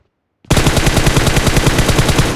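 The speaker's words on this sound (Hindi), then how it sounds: "उसे मैंने 2 गोलियां मारी हैं, एक हेडशॉट भी मारा था" A rapid automatic weapon burst in PUBG Mobile on the Livik map: sudden loud gunfire after brief silence, then steady, evenly spaced shots rattling on without pause.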